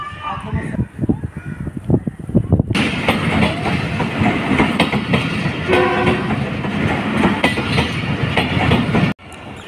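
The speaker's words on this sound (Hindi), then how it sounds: "जी ट्रेन डिपार्चर हो चुकी है" A train pulls out of Bahawalpur station, a close heavy rumble of carriages rolling on the rails with rhythmic clatter. A horn sounds partway through and voices are heard early on.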